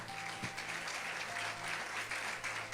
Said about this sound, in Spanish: Yo creo que el aplauso puede ser más fuerte.